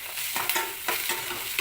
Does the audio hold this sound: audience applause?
no